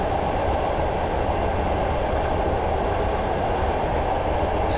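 Train coasting without power in Train Simulator 2015, a Class diesel unit on the Barnard Castle to Bishop Auckland route, gives a steady, loud rolling rumble and hiss with no pauses and no voices.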